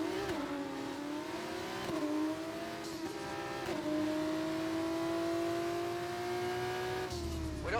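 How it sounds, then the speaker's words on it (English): Race car engine in a racing video game revving hard at a practice start, a steady loud harmonic drone that rises and dips in pitch several times, continuous and close throughout. "Watch the RPM on the full start. We don't want you to bog down."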